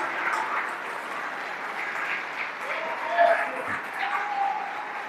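A church congregation applauds during a worship service, a sustained wash of clapping with murmured voices and shouts mixed underneath, moderately loud throughout.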